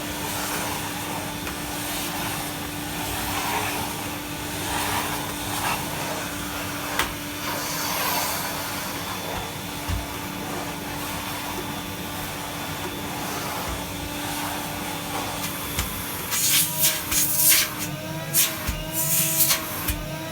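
A refurbished vintage 1975 Electrolux 302 cylinder vacuum cleaner runs with a steady loud motor drone and a fixed whine, ending in a few brief handling knocks and rattles.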